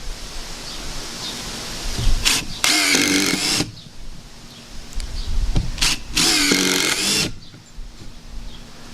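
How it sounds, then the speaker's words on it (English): A DeWalt 20V XR brushless impact driver sinks screws into a 2x4 outdoors in two loud, rattling bursts about a second long each, with light wind noise in the background. "I'm going to drive some screws into this 2x4 and see what it can do."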